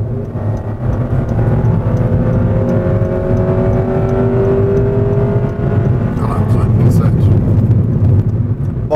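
A car pulls hard through a 0-100 km/h run on a ring road, its loud, steady engine drone climbing slowly in pitch across a long, unbroken acceleration.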